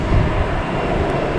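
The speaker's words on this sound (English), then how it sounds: "There's that JetBlue that just landed" A JetBlue airliner just after landing at Boston Logan Airport gives a steady, broad engine roar that holds at an even level throughout, with no voices.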